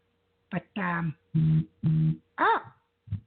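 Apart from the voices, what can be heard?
phone notification sound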